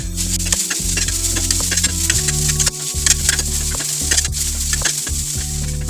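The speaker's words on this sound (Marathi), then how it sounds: "हे सगळं मिश्रण पुन्हा एकदा आपल्याला व्यवस्थित ढवळून घ्यायचं आहे" A spiced egg rice masala being stirred in a pan: a continuous close sizzle with a steady low hum underneath and repeated scraping, clicking strokes of the utensil, no talk.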